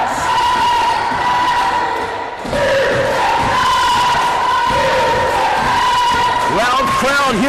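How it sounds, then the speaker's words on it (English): A loud crowd roars and cheers in a school gym during a girls basketball game, the noise steady and full throughout with a brief dip near the middle, plus a few ball thuds and shouts rising from the stands. "Loud crowd here in the gym."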